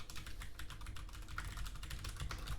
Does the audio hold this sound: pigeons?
no